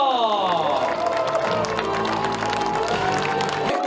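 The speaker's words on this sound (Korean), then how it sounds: "축하의 박수 부탁드립니다" Steady crowd applause with scattered cheers for the winner of the 2024 Daegu Marathon at the awards ceremony, dense and continuous throughout, with an announcer's voice and music running over it.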